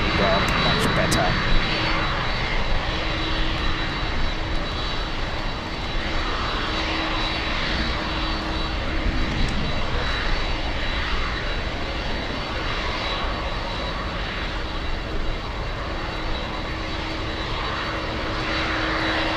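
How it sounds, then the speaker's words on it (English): Jet airliner engines roaring loud and continuous near Miami International Airport, a broad sustained rumble with no breaks. "We have Speedbird joining final approach."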